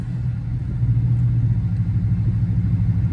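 Deep, steady rumble of a Dodge Charger SRT8 engine under throttle, close and low-pitched, holding a droning tone without breaks.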